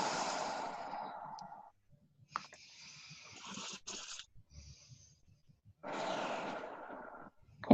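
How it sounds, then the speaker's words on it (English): Slow, deep exhalations through the nose during a guided breathing exercise, two long soft breaths out separated by a quiet pause, close and gentle, with a faint click near the end. "And when you breathe out through your nose. So, and then breathe out."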